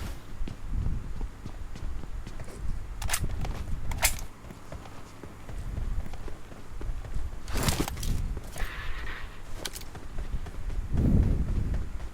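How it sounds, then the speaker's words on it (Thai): Footsteps crunch and thud steadily through a multiplayer shooter game, mixed with creaks and sharp clicks, fairly loud and continuous over a low ambient rumble. "เสียงเท้ามันคนมากเลยเนาะ"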